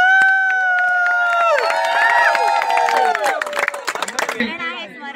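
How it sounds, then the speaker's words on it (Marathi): A crowd claps at a village cricket premier league event: a short burst of clapping follows tonal vocal sounds and babble in the gathering. "टाळ्या वाजव टाळ्या वाजव."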